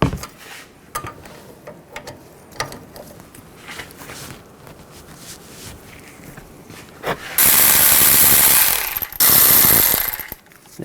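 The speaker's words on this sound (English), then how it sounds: "Now take the caliper bracket off, use an 18mm socket and take these two bolts out." An impact wrench with an 18mm socket spins out the front brake caliper bracket bolts on a 2007 Chevy Silverado 1500 Classic: two loud, sustained rattling bursts close by, following quieter shop clatter and footsteps.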